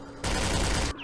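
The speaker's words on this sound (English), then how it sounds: "Machine gun fire." Machine gun fire from the wargame Campaign Series Middle East erupts as one loud, dense burst lasting under a second, cutting off sharply into quieter background.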